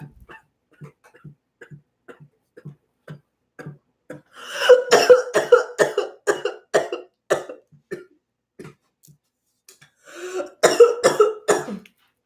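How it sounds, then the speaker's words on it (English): A long series of short, sharp coughs, scattered quiet single coughs at first, then two louder bursts of rapid, harsh hacking. "I'm sorry, I'm coughing in y'all's ear."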